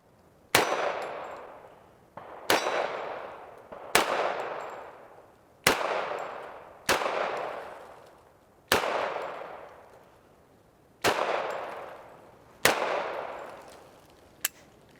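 A Hi-Point JHP .45 ACP pistol firing MagTech rounds, eight sharp, loud shots spaced about one to two seconds apart, each followed by a short ringing echo, with no talking.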